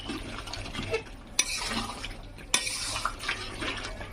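Mutton curry being stirred in a pot, with a spoon scraping and knocking against the metal in two sharp clanks among softer continuous scraping and stirring noises, close and moderately loud, no talking.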